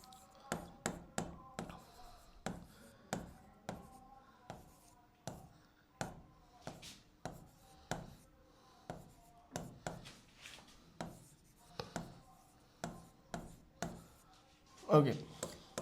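A black marker on a board, written in sharp repeated taps and short strokes, close and irregularly rhythmic, with someone speaking quietly between strokes.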